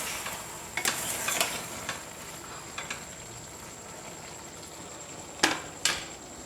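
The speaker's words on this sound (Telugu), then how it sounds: "ఇప్పుడైతే చికెన్ అయితే ఉడికిందా లేదో చూద్దాం ఫ్రెండ్స్ కలుపుకుందాం ఒకసారి" Chicken fry is stirred in a pan, with a low background sizzle broken by a few sharp scraping clinks of the spatula against the pan, two louder near the end.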